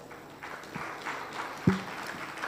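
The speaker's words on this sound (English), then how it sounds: "Let's give them a round of applause" Audience at a women's executive summit applauding a car dealership sponsor, a steady wash of clapping at moderate distance with one sharper knock partway through.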